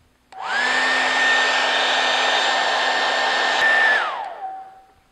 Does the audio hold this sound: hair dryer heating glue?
yes